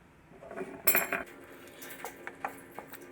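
A spoon clinks against a dish while stirring cucumber kichadi, a loud cluster of metallic taps followed by softer scattered stirring clicks, close up and without voices.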